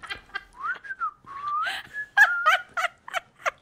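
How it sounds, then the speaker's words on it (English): Someone tries to whistle with little success, giving a few wavering, sliding tones followed by short breathy chirps with gaps between them, close and clear with no talking. "I can't really whistle very well."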